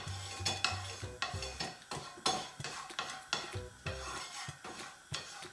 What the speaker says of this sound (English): I'm actually gonna spread this oil with a wooden spatula